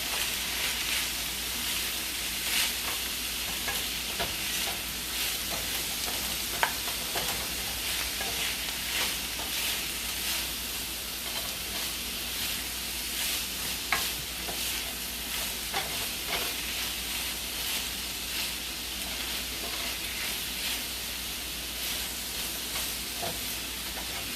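Ackee and saltfish being mixed into frying vegetables in a pan for a Jamaican dish, a continuous close sizzle with frequent scraping stirs throughout, no speech.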